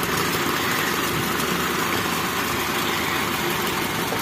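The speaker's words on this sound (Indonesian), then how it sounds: "kita cari tahu mana yang suaranya berbeda, suara mesinnya terutama" Car engine from a Daihatsu runs steadily at idle as spark plug caps are pulled one at a time, a loud continuous close-up rumble with even vibration and no clear breaks.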